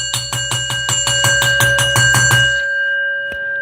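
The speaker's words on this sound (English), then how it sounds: "Ring that bell." A bell rings rapidly about a dozen times in an even, bright metallic pattern, loud and close, then its tone rings out and decays.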